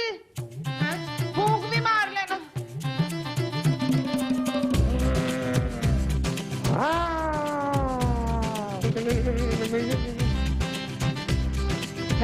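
A cat meows in a series of drawn-out, rising and falling cries with strong tonal harmonics, loud and close over background music and sound effects in a drama scene.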